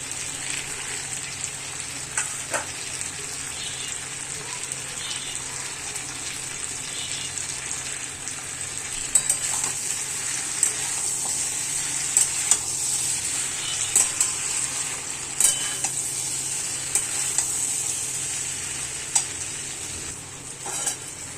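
Long, steady sizzle of potatoes frying, punctuated by irregular scrapes and clinks of a spatula stirring against the pan.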